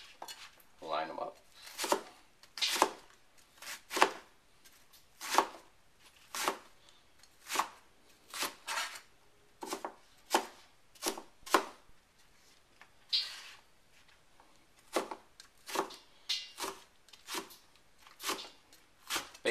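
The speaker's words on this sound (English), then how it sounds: "whatever you're dicing, you don't want it to be longer than the length of your cleaver" Eggplant diced with a cleaver on a cutting board, a long run of sharp, close chops in uneven bursts with short pauses between, loud against a quiet background and no talking.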